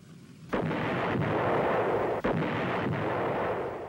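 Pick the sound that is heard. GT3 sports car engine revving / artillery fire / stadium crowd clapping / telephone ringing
artillery fire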